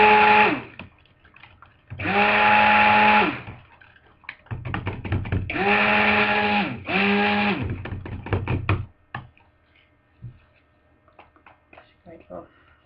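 A mixer blending soap batter with activated charcoal, three loud whirring bursts of a few seconds each with steady motor tone, separated by tapping and clinking of the beaters against the bowl.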